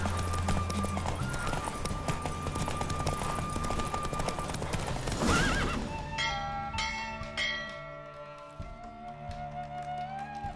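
Horse neighing over rapid clip-clop hooves during a horse race in The Witcher 3: Wild Hunt video game, in a dense, loud mix, with bell-like chimes ringing out toward the end as the galloping settles.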